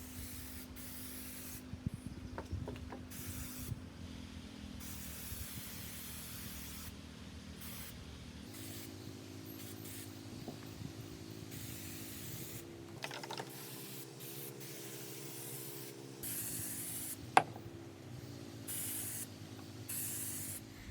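Permethrin from a 9-ounce aerosol can is sprayed onto clothes, a steady hiss running in long bursts with short breaks between them.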